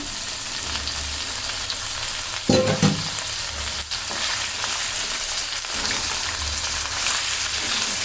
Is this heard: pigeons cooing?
no